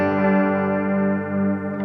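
An electric guitar runs through the chorus modulation of an Xvive V21 Echoman analog delay pedal, holding one sustained, shimmering chord that wavers gently for a couple of seconds without any talk.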